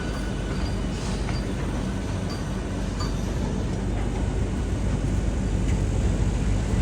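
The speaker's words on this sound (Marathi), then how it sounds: "आपली ट्रेन निघाली आणि आता वंदे भारत ट्रेन आली आहे." A Vande Bharat train arriving at a station, a loud steady rumble and roar of the rolling train with faint metallic clanks, continuous and close, with no talking.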